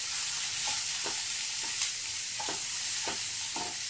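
Food sautéing in a covered pan over a slow flame, giving a steady, close hiss of sizzling. About every half second a brief stirring scrape cuts through it, with no talking.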